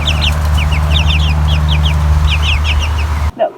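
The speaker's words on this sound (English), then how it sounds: "we're taking a break from our car work to say hi to the chickens." Backyard chickens cluck and chatter in quick repeated bursts over a loud steady low hum, close by, and the sound cuts off abruptly near the end.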